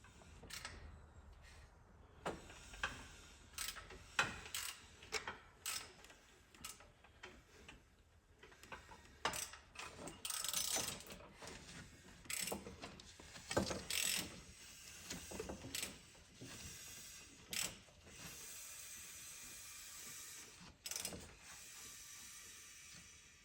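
Ratchet clicking as a timing component is torqued down on a Ford 4.0 engine, with repeated bursts of sharp ticking pawl clicks in uneven strokes, close up, separated by short pauses and no talking.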